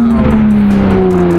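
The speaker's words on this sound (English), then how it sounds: "that car's so loud." A Lamborghini Aventador SV with a volcano-style FI exhaust holds a loud, steady engine drone for a moment, close and continuous, with no talking.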